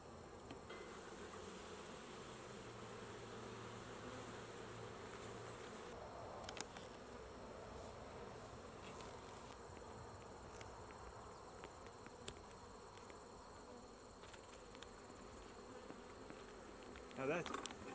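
Honey bees buzzing around an open hive during a hive check, a continuous close hum with individual bees passing nearby and occasional faint handling noises.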